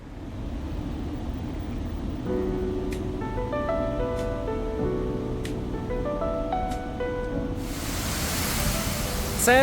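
The Fountain of Wealth in Singapore pours a steady, loud rush of falling water, while tonal music with bell-like strikes plays faintly underneath.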